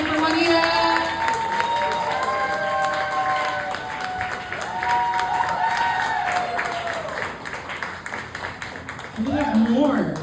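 A stand-up comedy club crowd claps and cheers for a performer, a full sustained roar of applause with whoops and voices woven through, swelling again at the end.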